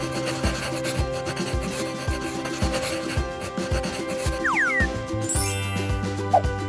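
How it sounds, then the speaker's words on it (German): Wax crayon scraping across sandpaper in short repeated rubbing strokes, close and gritty, with a faint tinkling sound in the background and no voices. "Mit Wachskreide malst du auf das freiliegende Sandpapier."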